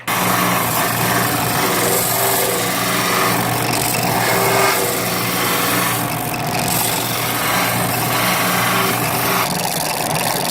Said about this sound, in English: Barely touching the wood disc now. After a while of using the disc sander